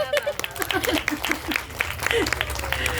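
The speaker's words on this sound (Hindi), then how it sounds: "अपने लिए ताली बजाइए" A Brahma Kumaris gathering at the Siliguri checkpost centre claps for themselves, a brief burst of scattered clapping with voices mixed in.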